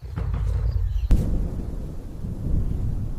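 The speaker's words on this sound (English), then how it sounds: "A storm approaches." A deep thunder crack and rumble from an approaching storm over open savannah, a sharp burst near the middle followed by a rolling low rumble amid steady wind noise.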